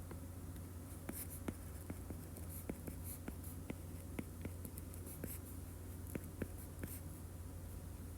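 Pen or pencil writing out a matrix by hand during a chemistry math lecture, soft scratching strokes with irregular light taps, quiet and close over a low steady background hum.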